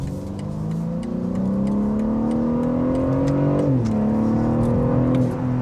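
BMW M3 G80 with over 500 horsepower and rear-wheel drive accelerating onto a wet motorway, engine note rising steadily, loud and close, then briefly dipping at a gear change before climbing again.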